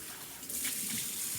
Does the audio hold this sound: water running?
yes